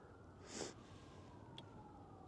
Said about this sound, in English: boy, I hear them sirens. That sound carries.